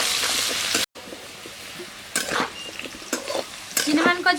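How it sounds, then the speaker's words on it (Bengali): Chinamon taro fries in a pan with turmeric, chili powder and salt, sizzling steadily as a utensil stirs and scrapes in bursts, with a short dropout early on. "দিয়ে দেবো হলুদ গুঁড়ো, লঙ্কার গুঁড়ো আর দেবো লবণ। লাল করে ভেজে নিতে হবে।"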